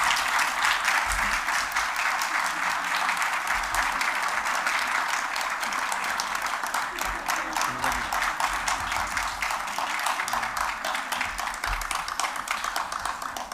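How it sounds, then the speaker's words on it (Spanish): Sustained applause from a theatre audience in the Teatro Hespérides, a dense, steady wash of many hands clapping that holds evenly for the whole stretch with no voices over it. "Lucía, un aplauso para ella."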